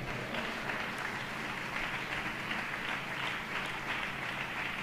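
A congregation at a Tamil Christian church service claps together in steady, dense applause, a continuous even wash of clapping with no talk over it.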